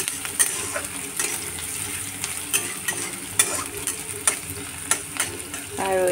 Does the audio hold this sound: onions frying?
yes